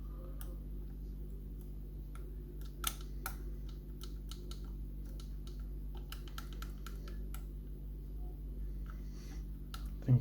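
Old ERA Invisible lever lock being picked, with sharp small metallic clicks and ticks of the levers and pick, scattered irregularly over a low steady hum, close and quiet.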